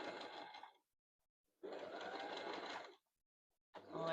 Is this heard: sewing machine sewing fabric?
yes